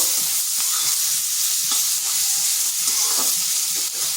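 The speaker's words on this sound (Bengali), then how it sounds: "এরপর পেঁয়াজটাকে হালকা ভেজে নেব" A large onion cut into long slices fries with turmeric in a hot pan, giving a dense, continuous sizzle with light stirring sounds throughout.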